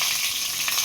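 Curry leaves sizzling in hot oil while a Maharashtrian stuffing masala is prepared for bharli karli (stuffed bitter gourd): a steady, close hiss and crackle of frying that runs throughout without pause.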